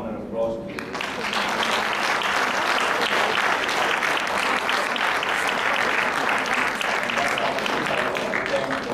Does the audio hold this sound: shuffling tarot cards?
no